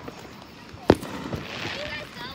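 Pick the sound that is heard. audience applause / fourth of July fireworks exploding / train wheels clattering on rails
fourth of July fireworks exploding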